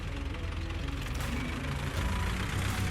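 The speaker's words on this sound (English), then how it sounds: "The sound of that tractor means it's time for us to go to work." A tractor engine runs close by, a loud, steady, rumbling idle with a rough knocking texture that continues unbroken throughout.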